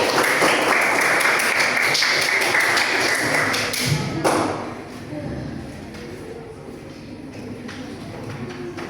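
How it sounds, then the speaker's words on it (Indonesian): Students in a classroom applaud together, a dense, steady patter of many hands clapping loudly for about four seconds before it drops to a softer, scattered background murmur of the class. "Bagus sekali, tepuk tangan lagi."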